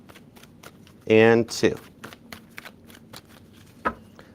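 A tarot deck being shuffled, one brisk riffling burst followed by a quick second flick, with a voice speaking briefly around it.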